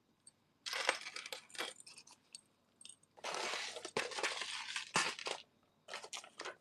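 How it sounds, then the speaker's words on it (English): Scissors being grabbed from among antique and thrift-store jewelry make bursts of metallic clinking and rattling, with several louder clusters of rummaging and short quiet gaps between them. "Sorry, I'm grabbing my scissors."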